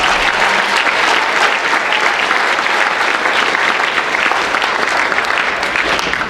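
A Veterans Day assembly crowd gives loud, continuous applause, dense clapping that holds steady without a break.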